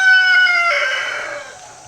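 A single rooster crows close by, a loud drawn-out call with bright harmonics that slowly fades, with no other sounds around it.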